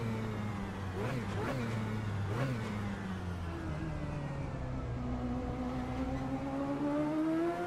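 Race car engine in a racing video game on a cool-down lap at the Nordschleife, droning steadily with a few quick revving blips early on, then settling into a smooth rising whine, loud and continuous.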